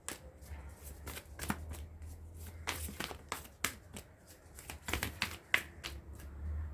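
Tarot cards being shuffled during a reading, with a series of quick, close riffling bursts and crisp snaps at uneven intervals, all quiet and with no talk.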